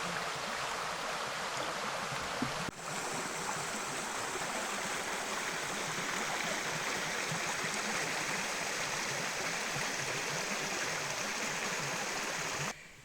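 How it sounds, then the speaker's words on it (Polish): Steady rushing water pouring down a waterfall in Romania, a constant broad roar that holds evenly throughout with no voices. "Bo w dosyć sporej ilości tym wodospadem spada ta woda"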